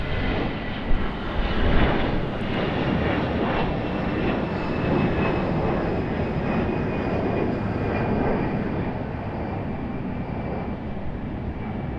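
A Boeing 777 departs Raleigh Durham International Airport, heard as a broad, steady jet roar that stays loud and continuous throughout, distant but powerful, with no speech.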